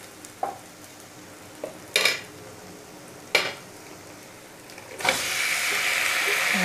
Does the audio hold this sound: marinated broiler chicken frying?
yes